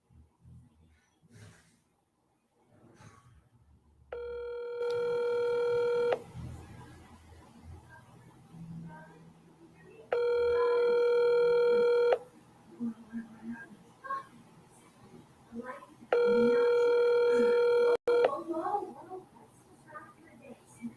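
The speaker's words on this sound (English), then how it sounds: "Coach does not answer his phone." A phone call to a coach goes unanswered. Three long, loud ringback tones of about two seconds each repeat at even intervals, and quieter talking and background noise fill the gaps between them.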